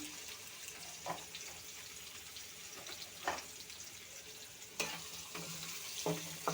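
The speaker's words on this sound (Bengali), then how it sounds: "এখন দিয়ে দেব পেঁয়াজ কুচি" Chopped onion fries in hot oil with whole cumin seeds in a pan, giving a quiet continuous sizzle broken by a few sharp clinks and scrapes of stirring.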